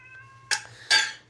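Pet cat Ophelia gives two loud, close meows about half a second apart, the second longer and stronger, over a steady low hum.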